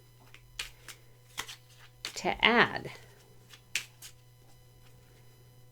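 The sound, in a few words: tarot cards being shuffled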